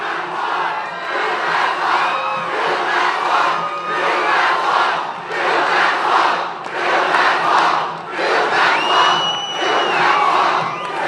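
Large outdoor political rally crowd in Charlotte, North Carolina, roaring and cheering in loud sustained waves that swell and dip, with whoops and shouts rising above the mass of voices.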